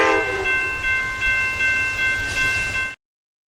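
A train horn blares loud and steady for about three seconds over a rumbling railway background, then cuts off abruptly, with no voices.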